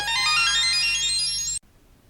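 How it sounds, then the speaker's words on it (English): A phone rings with an incoming call: a steady, bright electronic tone pattern sounds loudly for about a second and a half, then cuts off abruptly into near silence. "Gotta go. Phone call."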